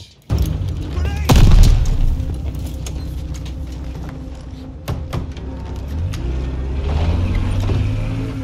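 A Blitz truck in a 1944 D-Day game revs and rumbles along at close range after a heavy boom near the start, engine droning steadily with occasional clanks and shifting pitch.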